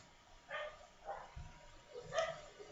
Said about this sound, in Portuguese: os cachorros latindo aí